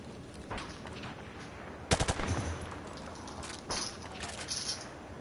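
Gunfire in a PS4 online shooter game: short bursts of rapid automatic shots, a loud cluster near the middle and lighter bursts later, set against steady background noise.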